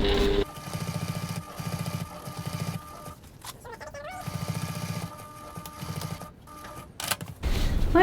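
Sewing machine stitching the fabric of a travel sling bag, running in short rhythmic bursts of rapid, close mechanical clatter separated by pauses and handling noise.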